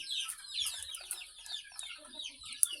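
A flock of young chicks being raised on a farm chirps in dense, overlapping high peeps, close and constant, with no talking.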